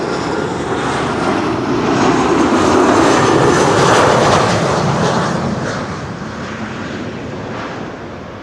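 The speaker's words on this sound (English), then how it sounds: "4th airplane that should pop up would be a 3rd Embraer 190" A KLM Embraer 190 jet airliner lands on Amsterdam Schiphol's Kaagbaan runway, its loud engine roar building to a peak midway and then tapering as it rolls past.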